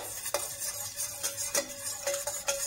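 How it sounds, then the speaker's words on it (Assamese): Ghee sizzling in a pan while cooking boiled chana dal with amla, with scraping and stirring clinks from a utensil over a steady soft frying hiss. "এয়া ঘি দিলোঁ"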